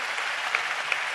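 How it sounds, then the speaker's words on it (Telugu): A congregation at a Telugu Christian sermon breaks into applause, a brief, steady wash of many hands clapping at moderate distance with no talking over it. "అవునన్న బిడ్డలు చప్పట్లు కొడుతూ స్తోత్రాలు చెప్దాం."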